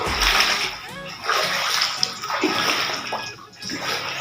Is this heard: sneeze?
no